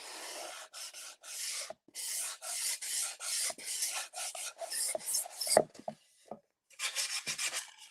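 Sandpaper of 320 grit rubbed by hand along wood edges, a series of dry, rasping back-and-forth strokes in quick bursts with short pauses, close and fairly loud with no talking.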